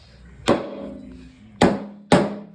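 Hammer striking the severely rusted frame of a Honda 3813 lawn tractor, three sharp metallic blows with a brief ringing decay, close and loud, the second and third coming in quicker succession, no talking.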